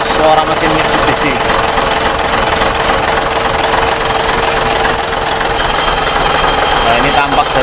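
Loud, close diesel clatter from a repaired Mitsubishi Fuso 6D22 truck engine at idle, an even, rapid knocking pulse over a constant drone, unbroken from start to finish.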